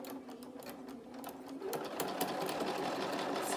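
A sewing machine running a line of stitches across plastic pocket binding, a steady close mechanical whirr with rapid needle ticking that picks up speed and grows louder midway, with no talk.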